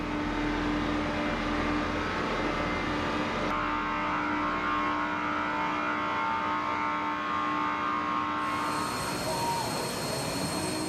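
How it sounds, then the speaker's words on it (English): A tow vehicle hitched to the nose gear pulls an aircraft from the elevator into the hangar bay of an amphibious assault ship, giving a steady loud engine drone over continuous broadband machinery rumble, with a brief rise in engine tone near the end. "The tow vehicle pulls the aircraft from the elevator into the hangar bay area."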